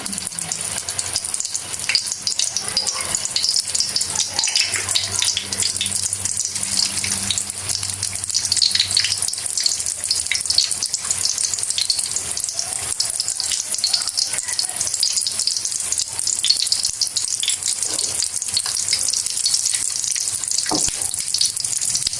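Chicken chapli kebabs with cheese frying in a little oil in a pan, giving a steady close, bright hiss and crackle that runs unbroken throughout, with a faint voice briefly in the background.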